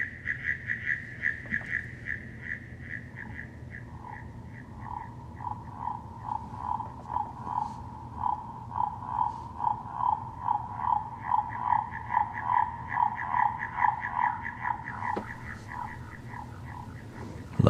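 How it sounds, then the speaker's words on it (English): A frog or toad in a swamp croaks in a regular rhythmic series of bright, clear calls, with a second higher croaking voice at the start and end, all fairly close and loud. "That's a frog or a toad,"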